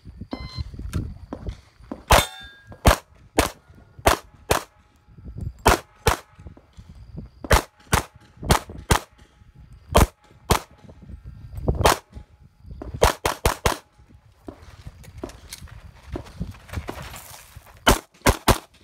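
Gunshots ring out across a USPSA practical shooting stage, around two dozen sharp cracks in uneven bursts and pairs, with a few fast strings, loud and close over quiet outdoor background.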